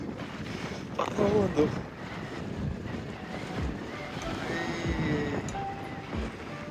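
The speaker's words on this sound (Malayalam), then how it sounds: "നല്ല കാറ്റാണ് ഒന്നും പറഞ്ഞാൽ കേൾക്കാൻ പറ്റില്ല അമ്മാതിരി കാറ്റാണ്" Strong, gusty wind on a rocky outcrop in Kollam buffets the microphone with a low rumbling roar, while a person speaks briefly under it.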